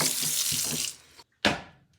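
Tap water runs hard into a pot of diced potatoes in a kitchen sink, a loud close gushing stream that cuts off, then returns briefly in a short burst before trailing away.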